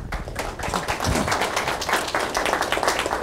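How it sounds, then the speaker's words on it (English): An audience at a pharmaceutical GMP conference session claps to welcome a speaker onto the stage, a crisp burst of many hands, sustained and fairly close, with no talking over it. "I've never understood why people clap when you first come and don't do it at the end"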